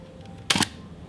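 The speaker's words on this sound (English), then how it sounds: "I will just depress the shutter" A single sharp mechanical shutter click from a Mamiya RZ67 medium format camera set to bulb, brief and close, against a quiet room.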